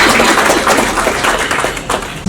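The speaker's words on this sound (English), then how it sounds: "A round of applause for Ms." Audience applause at an achievers' awards ceremony, a dense, steady wash of many hands clapping that carries loudly through the whole stretch without a break.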